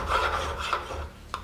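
Steady rasping of a lighter file's teeth dragged across metal at a jeweler's bench, close and continuous strokes with a brief sharp scrape near the end, no voices.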